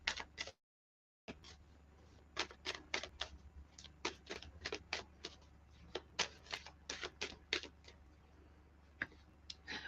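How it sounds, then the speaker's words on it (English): Tarot cards being shuffled by hand: a quick run of crisp, irregular riffling clicks and snaps, close and fairly loud, after a brief silent gap, with no talking. "Let's give it a good shuffle."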